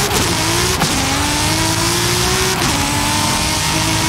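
An off-road car engine in Forza Horizon 5 drones loudly and steadily, its pitch rising gradually through the gears with brief shift breaks and no talking, at a rally outing on an abandoned airfield.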